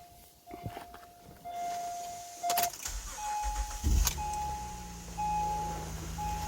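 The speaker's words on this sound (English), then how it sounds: "So, with that being said, I will start the car up." A Honda or Acura car engine cranks and starts, with a loud low burst near the four-second mark settling into a steady idle hum, preceded by door and interior clicks and a chime.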